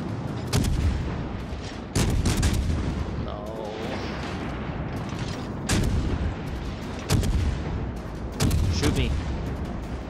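Heavy naval guns fire in World of Warships in repeated loud booming salvos a few seconds apart. A rumbling battle din fills the gaps between the shots, and a voice talks underneath.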